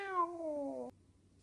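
A single cat meows once, loud and close, with a smooth falling tone that stops abruptly and leaves faint background noise.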